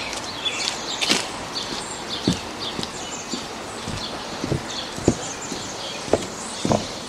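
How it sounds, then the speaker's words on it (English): Irregular hollow knocks and clatters of footsteps on loose wooden bridge planks at Colquitz, with rustling and birdsong in the background. "I'm just coming up to that noisy bridge, the one with the loose planks."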